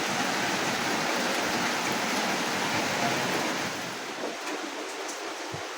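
Heavy rain pours steadily on a dark, overcast day at a rural home, a dense hiss that eases slightly toward the end.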